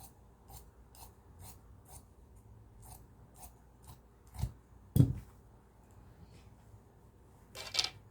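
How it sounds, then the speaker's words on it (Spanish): Scissors snip through shirt fabric while a skirt is cut from a shirt, a run of short, evenly spaced crisp cuts, close and fairly quiet, followed by a couple of louder thumps and a final rustle. "Y cortamos dejando un poquito extra para la costura."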